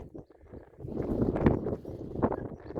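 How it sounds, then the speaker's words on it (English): Gusty wind buffets the microphone in uneven surges on an exposed hilltop along the Yorkshire Dales Way, a loud broadband rumble rising and falling with no one speaking. "Very blustery and windy up here, not much shelter."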